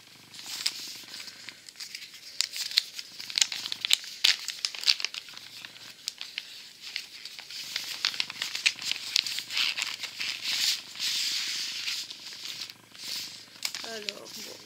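A cross-stitch kit pouch is opened with close, repeated plastic crinkling and rustling in irregular bursts, while a voice talks over parts of it.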